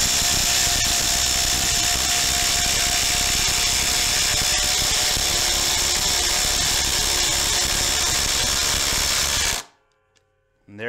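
Ryobi impact drivers, a new HP heavy-duty model against an older P238, drive 6-inch lag screws into timber without pre-drilled holes, a loud continuous hammering whir that runs about nine seconds before cutting off abruptly to near silence.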